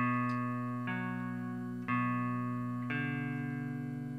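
Slow guitar notes ring out one after another, each sustained tone changing pitch about once a second, with a clean, close, steady sound.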